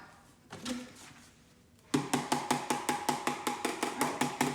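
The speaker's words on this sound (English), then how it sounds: "He got creative and decided that the chopsticks would make good drumsticks." Chopsticks used as drumsticks strike a wooden surface at close range, first in a few scattered taps, then in a steady, even run of sharp knocks that lasts to the end.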